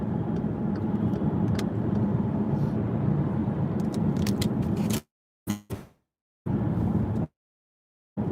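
A 2015 Volkswagen Passat driving for gig rides, with a steady broadband road and engine rumble from inside the cabin that cuts out abruptly, followed by brief bursts and gaps of silence.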